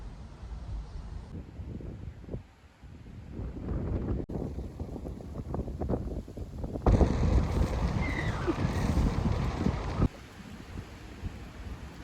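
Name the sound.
strong wind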